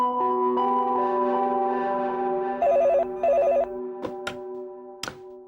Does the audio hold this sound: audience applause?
no